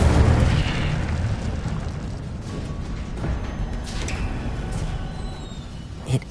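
A loud, close fiery blast from the Incendio fire spell in the video game Hogwarts Legacy, opening with a heavy burst that fades into a sustained roaring crackle.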